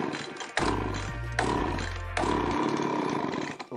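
An Echo leaf blower's small two-stroke engine sputters and coughs on the pull start, with a close, loud roar that surges in two bursts and dies away, with no talk over it.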